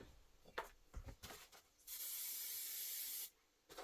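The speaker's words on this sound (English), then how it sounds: "I'm going to give this a little shot of spray." A steady hiss of an aerosol spray runs for over a second, after a few short handling rustles and clicks.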